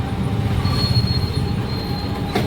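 A train rumbles steadily through Serampore railway station, with a sustained high metallic wheel squeal over a low rolling roar, loud and close, with no voices.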